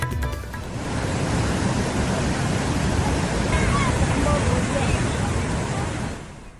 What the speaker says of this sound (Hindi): कई इलाकों में पुल के ऊपर से नदी का पानी बह रहा है।